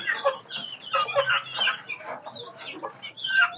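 Several native country chickens cluck close by on a small-scale poultry farm in short, overlapping bursts, with no talking.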